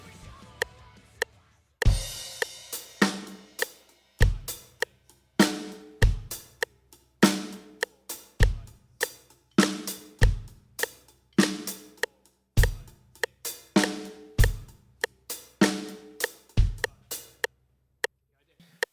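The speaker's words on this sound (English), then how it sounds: "playing 8th notes on the hi-hat." A simple drum groove at 100 BPM, with steady eighth notes on the hi-hat accenting every third note over regular kick and snare hits, played close and clear with no talking.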